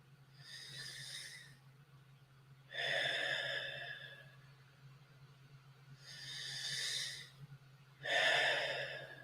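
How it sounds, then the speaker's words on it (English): Slow, deliberate breaths drawn in and pushed out through the mouth during a morning breathwork session, four long airy swells spaced a few seconds apart over a low steady hum, close and fairly quiet with no talking. "Now we're going to continue breathing, but this time through our mouth."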